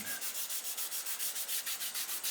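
A 7-string Les Paul guitar body being sanded by hand with 800 to 1000 grit sandpaper, a quick, even rhythm of short rubbing strokes, close and steady, with no voices.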